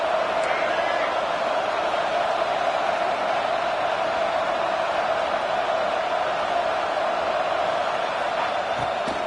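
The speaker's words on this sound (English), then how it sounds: "this crowd is ready." A steady, dense roar from a stadium crowd fills a college football video game matchup between Ole Miss and Texas, loud and continuous throughout, with no talk over it.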